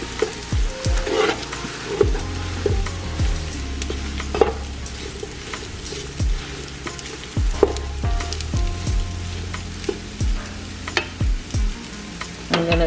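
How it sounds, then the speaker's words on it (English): A spoon scrapes and stirs cream cheese into a tuna casserole in a pan over a flame, with repeated knocks against the metal and a soft sizzle underneath. "I'm gonna mix this around so that this cream cheese will start to melt down in here"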